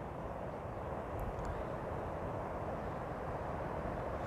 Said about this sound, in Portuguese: E o drone, eu estou com o stick atacado para cima e o drone parece que não sobe